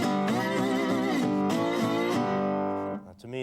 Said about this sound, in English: You've probably heard a lot of slide playing that sounds something like this.